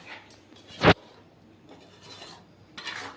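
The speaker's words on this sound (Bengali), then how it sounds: "এখন গ্যাসটা নিভিয়ে দিয়ে ভালো করে নেড়ে চেড়ে আমি নামিয়ে ফেলব" Chicken kosha being stirred in a pot with the gas turned off, a soft scraping and rubbing of a spoon against metal, with one sharp loud scrape near the start and fainter strokes after.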